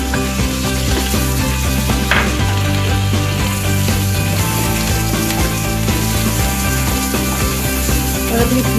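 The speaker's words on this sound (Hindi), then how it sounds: "अपनी पनीर की क्यूब्स को हम यहाँ पे थोड़ा सा पका लेंगे" Paneer cubes and green chilies sizzle steadily in a hot pan, a dense continuous frying hiss with occasional stirring scrapes, close and fairly loud throughout.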